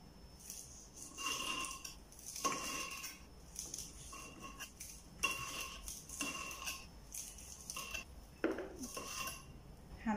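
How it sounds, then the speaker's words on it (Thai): Washed long beans are chopped on a cutting board in a home kitchen, giving faint, irregular knife taps and clinks in small bursts with quiet pauses between them. "เราก็เอาไปล้างทำความสะอาดก่อนเลย จากนั้นก็หั่นเลย"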